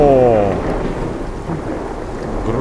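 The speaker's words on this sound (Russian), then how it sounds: "Гром и молния" A thunderstorm rumbles in the Sons of the Forest game: a loud roll of thunder fades into steady rain and wind that keep up throughout.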